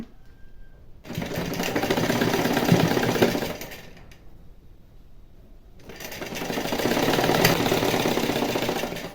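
An electric sewing machine runs in two sustained bursts with a pause between, stitching a straight seam on an elbow-length puff sleeve, a close, steady whirring clatter with no talking.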